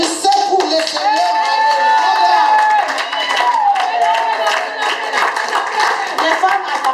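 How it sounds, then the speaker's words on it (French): A church congregation claps rhythmically, the sharp, quick beats running steadily throughout, while a voice and some singing carry along on top of the clapping. "Applaudissez pour le Seigneur."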